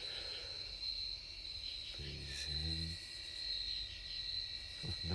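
Crickets and other insects chirp in a steady high, continuous drone outdoors, faint but unbroken, with a brief low murmur of movement or voice partway through.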